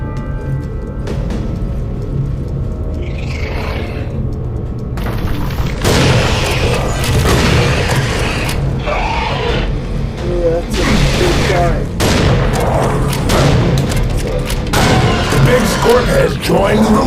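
Heavy gunfire from a weapon in Serious Sam 4, loud booming shots in rapid bursts over a dense, constant game soundscape, with a voice speaking alongside.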